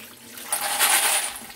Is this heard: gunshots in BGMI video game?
no